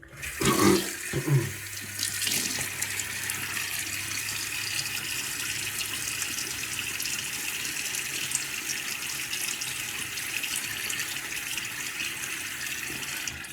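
A bathroom tap runs steadily to wet a face before a wet shave, with a burst of splashing near the start that settles into a constant, close rush of water for over ten seconds, with no voices.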